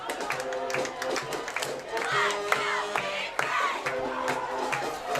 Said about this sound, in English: That woke the crowd up